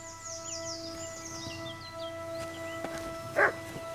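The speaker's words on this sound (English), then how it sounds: "I can hear dog, but that's probably not Mutt." A dog in the video game Kingdom Come Deliverance 2 gives a single short bark at mid-distance, among chirping birds and a steady ambient hum.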